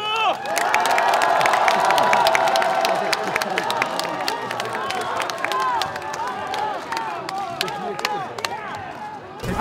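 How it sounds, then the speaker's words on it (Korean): A large crowd at an outdoor political rally in Dongseong-ro, Daegu claps and cheers loudly, with dense applause and shouts that gradually thin out into scattered claps. "홍준표 대표를 위해서 박수!"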